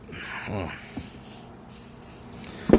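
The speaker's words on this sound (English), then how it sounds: "Always use a little WD-40 to let it soak in here a little bit." WD-40 sprays in a short hissing burst onto a seized fitting of a Rolls-Royce height control valve, followed by quiet handling noises and a sharp clunk of metal near the end.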